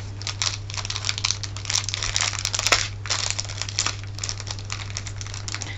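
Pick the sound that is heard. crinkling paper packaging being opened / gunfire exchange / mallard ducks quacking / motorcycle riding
crinkling paper packaging being opened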